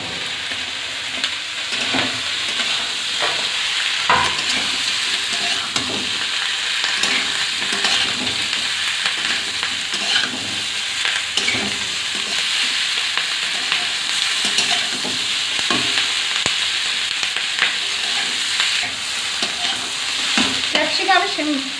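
Capsicum stir-frying in a pan with a cooked spice mix and turmeric, a continuous loud sizzle with repeated scraping and stirring strokes of a spoon throughout, no talking.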